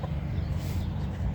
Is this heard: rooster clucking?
yes